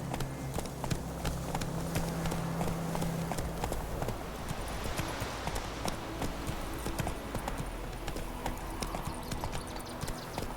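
Galloping hooves of Roach, the horse in The Witcher 3, a steady rapid clip-clop that runs throughout at close range over a continuous bed of ambient game sound.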